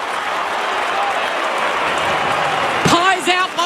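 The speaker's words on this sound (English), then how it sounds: "listen to the applause for the young gun who comes to the bench" Collingwood supporters at a 2023 AFL stadium match against the Western Bulldogs applaud as a young player comes to the bench, a steady broad wash of crowd clapping with a voice cutting in near the end.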